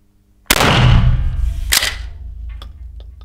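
A pump-action shotgun fires Joker rubber buckshot in two loud, sharp blasts about a second apart, the first with a long ringing decay, followed by faint clicks and handling noise.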